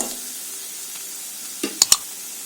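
Onions sautéing in a pan for egg masala fry make a soft, steady sizzle, broken near the end by a few sharp clinks of a spoon against the pan.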